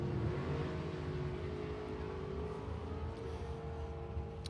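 Drag race cars at Saskatchewan International Raceway, a door slammer against a rail car, engines roaring faintly in the distance with a sustained, slightly shifting drone.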